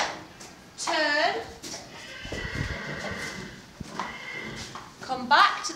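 A horse whinnies and snorts, with a few soft hoof steps and shuffling in a quiet stable-like space.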